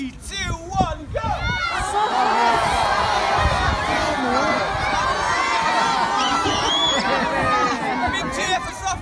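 Children at an aquarium seal show cheer and shout loudly as a crowd, a sustained excited roar of high voices with whoops and an adult voice briefly heard at the start.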